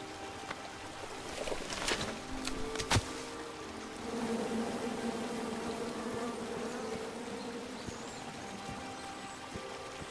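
An angry bee swarm buzzes from a chopped-down tree in the King's Quest video game, a steady droning hum with a few sharp clicks and thumps early on, moderately quiet and continuous.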